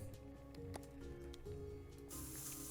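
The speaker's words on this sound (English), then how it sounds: "I do like using the spray cans in the game" Spray paint hissing from a spray can in the painting game SuchArt: Genius Artist Simulator, a steady airy hiss that swells loudly near the end over faint background music.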